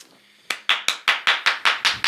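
Eight sharp, loud hand claps in quick, even succession after a brief quiet moment, each crack close and ringing with a short decay.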